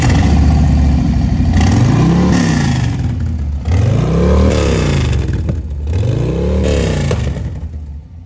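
A 2021 Harley-Davidson Breakout FXBRS with a Milwaukee-Eight 114 (1,868 cc) V-twin revs up and falls back three times over a steady idle, loud and close, with no talking.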